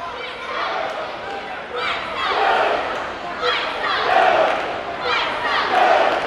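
Student cheer blocks at a girls' high school basketball game chant in rhythmic bursts from the stands, with crowd noise swelling and falling underneath.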